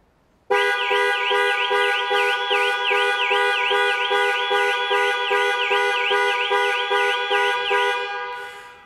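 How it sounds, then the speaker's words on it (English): A 2021 Jaguar XE's panic alarm horn blares loud and close in a steady, rapidly repeating pulsing pattern, sounding continuously for several seconds before starting to fade. "Press for 3 seconds or press 3 times in 3 seconds, and the horn will sound"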